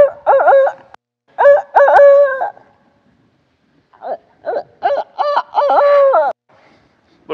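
A handheld owl hooter call device imitates an owl, blown close and loud in two series of rhythmic hoots separated by a pause, with no other sound in between.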